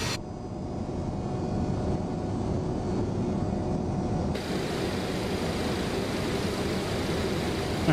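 Boeing 727 airliner engines in Microsoft Flight Simulator 2024 hold a constant close roar, with a brighter hiss rising partway through as the engine tone shifts, and no voices.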